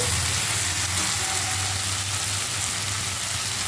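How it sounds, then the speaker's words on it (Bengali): Cabbage cooked with fish head is stirred with a pinch of sugar in a frying pan, producing a continuous close sizzle over a low steady hum, with no voices. "চিনিটা দিয়ে আবারও একটু নেড়ে দেবো"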